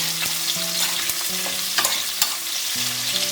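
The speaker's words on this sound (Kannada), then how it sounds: "ಸ್ವಲ್ಪ ಫ್ರೈ ಆದಮೇಲೆ ಈರುಳ್ಳಿ ಹಾಕ್ಕೊಂಬಿಡೋಣ. ಈರುಳ್ಳಿ ಚೆನ್ನಾಗಿ ಫ್ರೈ ಆಗಬೇಕು." Onions sizzle and fry steadily in hot oil with whole spices in a pan for a South Indian non-veg lunch, with stirring scrapes and clinks, loud and close, no talking.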